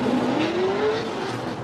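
A 4-cylinder turbo Scion tC drift car at the 2015 Formula Drift round in Long Beach sends out a sustained engine howl with a rising pitch and tire squeal, loud and close throughout.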